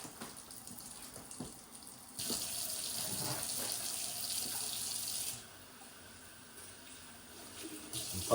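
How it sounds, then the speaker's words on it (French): Hot water running steadily from a tap into rice cream as it is whisked, a bright continuous splashing rush that swells for a few seconds in the middle, then eases off to a quieter trickle. "Je fais couler un peu d'eau chaude au fouet."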